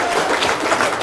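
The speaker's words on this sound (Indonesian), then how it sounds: "Tepuk tangan." An audience at a talk claps in a brief, dense burst of applause.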